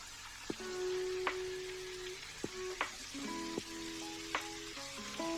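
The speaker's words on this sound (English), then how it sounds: "we're going to stir fry these on about a medium-high heat" Garlic, bamboo shoots, zucchini, onion, celery and carrot stir frying in oil over medium-high heat, a soft continuous sizzle with occasional light stirring knocks, faint and close, under steady tonal background music.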